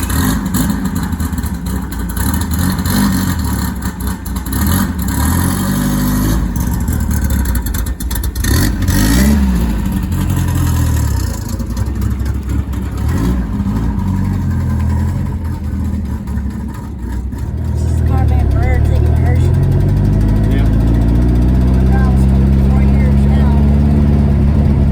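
Engine noise from someone's bug car driving on the road, a mid-pitched motor rising and falling as it revs through gears, loud and close with people talking over it.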